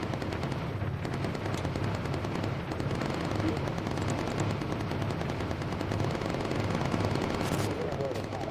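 Turret machine guns on a bomber in the video game Bomber Crew fire in a dense, continuous rattle throughout, close and steady, with game noise layered underneath.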